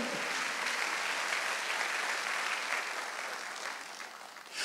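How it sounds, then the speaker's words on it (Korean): A church congregation at a Wednesday worship service claps together in a full, steady round that stays dense for several seconds before tapering slightly near the end. "박수 한번 주세요."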